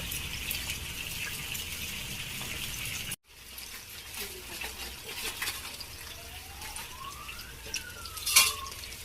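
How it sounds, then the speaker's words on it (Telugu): Eggplant pieces (vankaya) frying in hot oil give a continuous crackling sizzle that stops briefly partway through, then resumes with occasional stirring scrapes and a faint background whistle. "వంకాయలు వేగొస్తుందండి"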